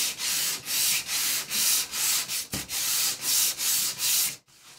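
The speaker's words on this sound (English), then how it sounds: "take my 220 grit sandpaper on the sanding block" Rhythmic back-and-forth scraping of 220-grit sandpaper on a sanding block over paint, about ten even strokes, close and steady, ending in near silence.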